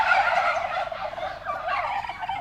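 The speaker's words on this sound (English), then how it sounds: "What noise does a turkey make?" Turkeys on a New Zealand farm gobbling in a loud, rapid, warbling burst that carries on for about two seconds, close by and alone without any voices.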